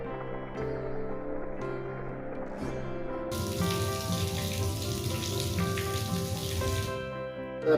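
A water jet runs steadily from a household tap after the supply pressure was reduced, giving a soft, non-splashing stream that swells into a fuller broadband rush partway through, with steady tonal music underneath.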